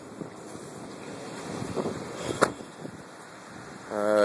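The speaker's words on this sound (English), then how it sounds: "what you see in the background is the ocean, which you can hear" Ocean surf washes steadily in the background at night, a broad faint rush mixed with wind noise on the microphone near a parked 2012 Dodge Charger rental car, with a brief thump and a louder gust near the end.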